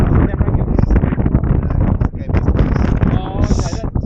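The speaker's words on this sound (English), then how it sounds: "Nice and windy." Wind buffets the microphone during a motorcycle ride to Lake Conjola in New South Wales, a loud, continuous rumbling roar that runs through the whole stretch.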